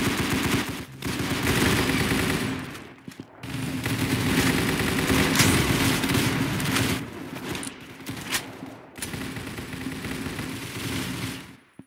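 Rapid automatic gunfire from the Roblox shooter game Arsenal, dense bursts of machine-gun fire rattling almost continuously with brief gaps, loud and close throughout.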